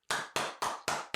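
Hands clap five times in a quick, even rhythm, each clap loud, sharp and close, with no voices around them.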